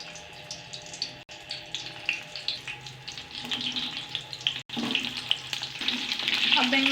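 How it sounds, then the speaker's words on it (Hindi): Eggplant (brinjal) pieces frying in about 1.5 cups of oil over a medium-low flame, a steady sizzle with crackling pops that grows louder and busier toward the end, close and without speech. "अब इसमें ऐड करेंगे बैंगन।"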